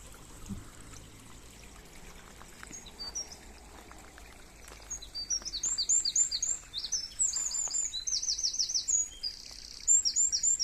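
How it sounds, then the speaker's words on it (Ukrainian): Birds sing and chirp in repeated bright phrases near a small spring stream, the calls growing busier and louder through the second half over a soft trickle of water, with no talk. "Як пташечка співає."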